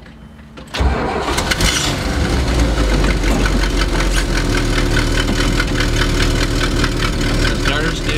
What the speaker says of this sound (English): The starter's still spinning.